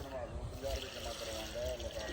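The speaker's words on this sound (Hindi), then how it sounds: "अपने पौधों को हमने पानी नहीं लगाया, काफ़ी दिन हो गए हैं, तो आज लगाते हैं पानी थोड़ा थोड़ा।" Water poured from a container onto potted plants, a steady splashing trickle with soft gurgles, close and moderately loud, continuing throughout with faint background noise.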